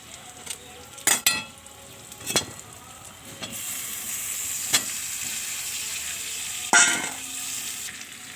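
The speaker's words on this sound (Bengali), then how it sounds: "আলু মশলার থেকে তেল ছেড়ে এসছে, এবার আমি ফুলকপিগুলো দিয়ে দেবো।" Cauliflower florets are added to spiced potatoes frying in oil. A steady sizzle runs throughout, broken by several sharp clatters and spoon scrapes against the pan.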